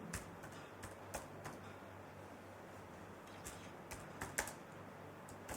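Rapid, quiet keystrokes clatter steadily on a computer keyboard, soft and close, with a few louder taps near the end.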